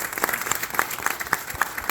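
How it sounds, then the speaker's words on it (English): A wedding reception crowd claps steadily for the newlyweds, a brief burst of applause with overlapping hand claps, close and lively. "Everyone give them a round of applause"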